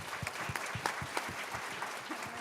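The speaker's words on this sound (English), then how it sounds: "so let's give them a round of applause" An audience applauds school-age children in a large gathering, steady clapping from many hands with a few louder claps standing out near the listener.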